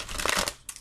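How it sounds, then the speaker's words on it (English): A deck of tarot cards being shuffled: a quick, close papery riffle lasting under a second, with a brief second flutter of cards at the end. "We'll shuffle it."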